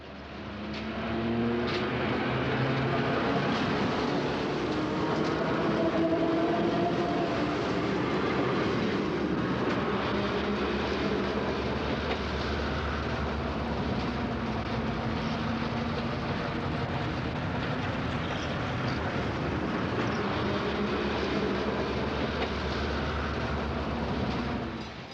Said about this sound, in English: hosts a brief stop by a westbound South Shore train consisting of a single wide-window